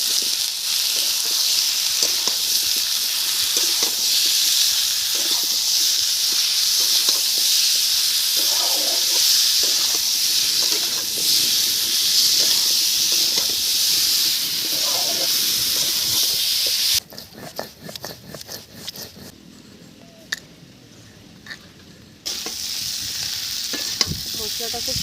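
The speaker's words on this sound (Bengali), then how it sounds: "মশলাটা খুব সুন্দর ভাজা হয়ে গেছে, ভেজে দিয়ে দিলাম।" Spices with salt, turmeric and chilli powder sizzle steadily in a pan for a thin latha fish curry, with stirring scrapes over a continuous hiss that drops to a quieter, patchier sizzle near the end.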